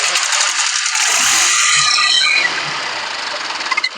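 A Honda Shine BS4 motorcycle engine runs with a rattling, knocking clatter from the tensioner area, heard close and steady with metallic ticks throughout.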